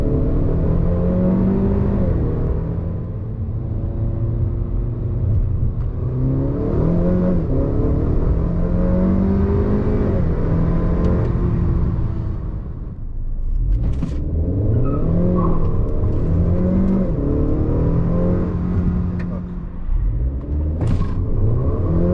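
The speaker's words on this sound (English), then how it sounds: "And I have the other ones where it actually did get the wheel hop," A stage 2 tuned Honda Accord 2.0T on grippy tires accelerates hard with wheel hop, its engine note climbing loudly twice, broken by a short lift between the two pulls.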